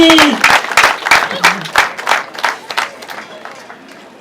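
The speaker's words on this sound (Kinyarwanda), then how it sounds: "Dukorere Imana amashyi." Wedding guests at a church ceremony burst into applause, loud close clapping that swells at first, then thins and fades over a few seconds.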